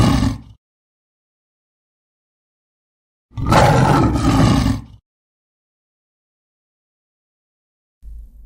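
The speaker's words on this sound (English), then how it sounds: "lion," Lion roaring once, loud and close, a single sustained rough roar lasting over a second, with brief low noise before and after and silence between.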